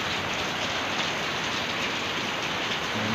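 Steady, heavy rain pours down continuously with a dense hiss in Norzagaray, Bulacan, Philippines, no voices present.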